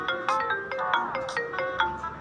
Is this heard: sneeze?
no